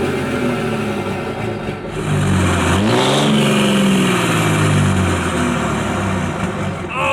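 A stock car engine spools down after a rev, its loud pitch sliding downward through a whooshing fall before it settles back into a steady, rumbling idle close by.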